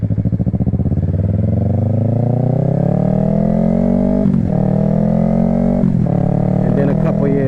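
Yamaha R3 motorcycle engine running close by, a sputtering idle at first that settles into a steady droning hum, with a few brief clanks.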